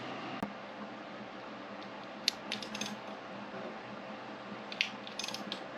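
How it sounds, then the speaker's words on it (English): Ratcheting clicks from a wrench working a coolant sensor out of the intake on a 1987 Lincoln Town Car, heard as brief bursts of quick close clicks against a steady low background hum. "We gotta get to this sensor here and twist it out"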